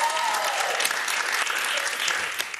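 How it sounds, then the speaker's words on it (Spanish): Enthusiastic applause from a crowd, dense clapping that stays loud and steady throughout. "Ay, un aplauso para mí."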